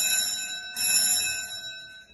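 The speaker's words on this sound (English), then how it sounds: "Excuse the bells." School bells ring in a building: a sustained, tonal ringing that swells at about the midpoint and holds steady before fading slightly, heard alone with no talking.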